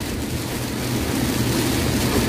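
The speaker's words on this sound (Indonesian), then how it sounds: "dan posisinya pun sekarang hujan" Heavy rain falling outdoors during a python catch at a chicken coop, a dense, steady hiss and patter that fills the whole clip, close and loud with a low rumbling undertone and no voices.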